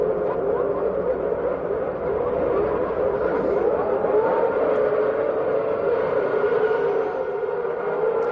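Formula One cars, a full grid led by Senna, Schumacher and Alesi, launch at the start of the Brazilian Grand Prix. Many engines blend into a loud, sustained wail with shifting whines as they accelerate away, continuous for several seconds.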